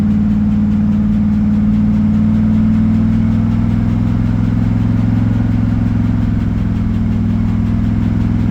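Car engine idling and running at low speed, around 20 mph, with a suspected transmission problem; a steady, loud low drone with a constant hum runs throughout, without talk.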